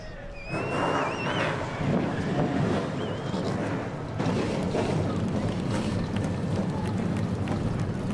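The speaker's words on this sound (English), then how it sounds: "Driver, start your engines!" Race car engines fire up and rev at Sunset Speedway, their rising whines cutting through a loud, rushing blanket of wind and distant crowd noise.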